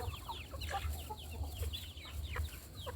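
Free-range village chickens cluck and chirp in a low-cost farm coop, a scattering of short repeated calls over a steady low hum, faint and without speech.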